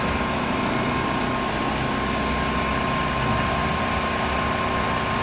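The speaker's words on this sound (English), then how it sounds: "Sorry about the roaring noise behind me." A loud, steady roar of a vacuum-like machine fills a lobby without a break, a dense whooshing drone with no speech.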